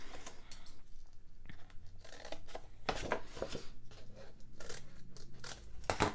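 Scissors snip and crunch through a cardboard cake box, a steady run of close cutting strokes with crinkling and tearing, no talk.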